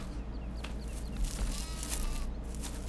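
Sheep in Farming Simulator 15 give a few soft, wavering bleats at a distance over a steady low hum and faint buzzing ambience, with no one talking.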